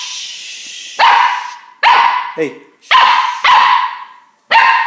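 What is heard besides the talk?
puppy barking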